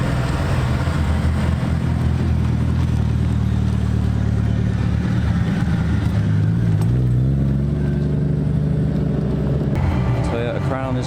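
Cars leaving a Japanese car show rumble and rev nearby in a steady, loud stream of engine noise, with people talking over it throughout.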